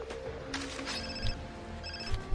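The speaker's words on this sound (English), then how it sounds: "I'm most probably waiting a phone call." A telephone rings in the video game Far Cry 3, a bright electronic ring repeating a few times at moderate loudness over a steady game background, with no talking.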